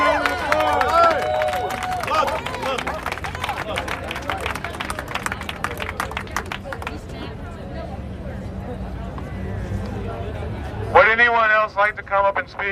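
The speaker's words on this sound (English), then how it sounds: "Give yourself a round of applause." A protest crowd at a counter-rally in Huntington Beach applauds in a dense burst of clapping and cheering that gradually thins out, with a voice speaking near the end.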